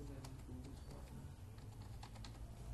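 Password being typed on a computer keyboard during a SQL Server 2000 setup on Windows 10: a few soft, scattered key clicks over a steady low hum.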